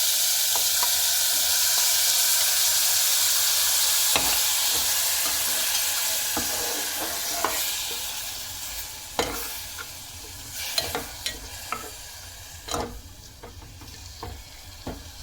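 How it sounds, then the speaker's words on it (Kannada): Marinated vegetables fry in hot oil for a one-pot dahi paneer pulao, a steady loud sizzle that settles as a spoon stirs, with scraping clinks growing frequent toward the end and no talking. "ಈ ಮ್ಯಾರಿನೇಟ್ ಮಾಡಾಗಿದೆ 15 ನಿಮಿಷ, ಈ ತರಕಾರಿನ ನಾವು ಇದಕ್ಕೆ ಹಾಕ್ಕೊಂಡು ಬಾಡಿಸ್ಬೇಕು"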